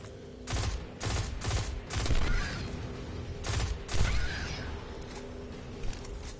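Gunfire in the Destiny shooter game comes as several loud bursts of rapid shots, heavy and near, separated by short gaps.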